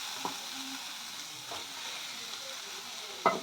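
Fried potatoes frying in a thick tomato masala in a pan for a Bengali katla fish dish, with a steady broad sizzle and a few sharp scraping stirs near the start, middle and end.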